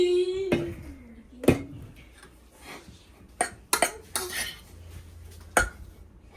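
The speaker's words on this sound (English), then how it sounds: "Couscous, and just fluff it up." Cooked couscous fluffed with a utensil in a pot, giving scattered metallic scrapes and clinks against the pot, several sharp taps spread irregularly, fairly close and moderately loud, with no talking.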